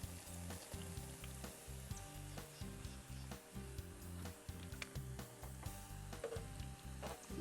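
Zalabia dough frying in hot oil, five or six pieces at a time, giving a steady close sizzle with bursts of bubbling and occasional clinks of a utensil throughout.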